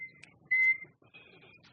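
A person attempts to whistle, producing thin, breathy tones in short bursts with gaps between them: a brief blip, then a steadier held note, then a weaker wavering one, faint and close.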